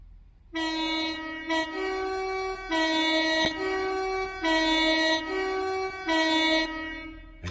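Class 43 high-speed train horn from a Train Sim World 2 sound mod, sounding four loud, sustained two-tone blasts in a steady rhythm with brief gaps, alone over low rumble.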